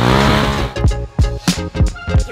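A Rokon motorcycle's rear tire slips during a drift, with its engine droning and then surging in rapid pulsing throttle bursts, up close and loud.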